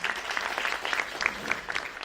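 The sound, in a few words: audience applause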